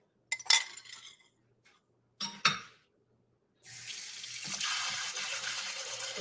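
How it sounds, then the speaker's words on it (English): After a couple of bright glassy clinks, a kitchen tap runs water steadily into a bowl used for making chocolate cups, a close, continuous hissing stream. "Put some water in this bowl so it's not so hard to clean off later."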